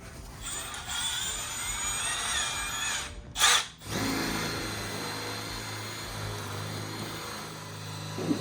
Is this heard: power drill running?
yes